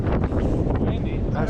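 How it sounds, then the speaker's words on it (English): Strong gusting wind of roughly twenty miles an hour buffets along a Southern Utah mountain bike trail, a loud continuous roar that blankets the whole moment close up. "very, very windy today. Probably 20-mile-an-hour sustained winds, maybe even more."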